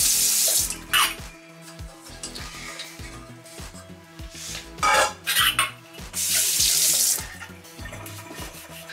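Tap water runs in a sink while a copper kettle is rinsed after vinegar tarnish cleaning. Several loud splashing bursts of flow are broken up by close metallic knocks and clatter, with no voices.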